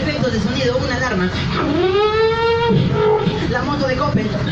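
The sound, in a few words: voice imitating an alarm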